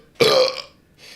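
A single loud, rough burp from a person, lasting about half a second, followed by a faint breathy trailing sound, with no talk over it.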